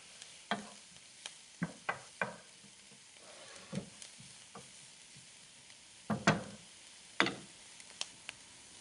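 Ukrainian kotlety meat patties pan-frying with a faint, steady sizzle, broken by scattered sharp pops and clicks at irregular intervals, close by and without talk.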